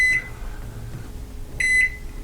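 A Toshiba microwave oven gives two loud, sharp electronic beeps about a second and a half apart as its kitchen timer is set, with a faint hum between them and no talking.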